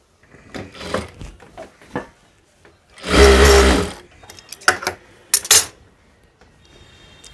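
A sewing machine stitches a half-inch seam along a pants waistband in one loud close burst of about a second, surrounded by scattered clicks and handling knocks of fabric and tools.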